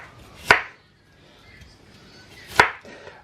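A knife chops through firm produce on a board while a crisp apple slaw is prepared, giving two sharp, isolated cuts about two seconds apart, close and clear against a quiet background.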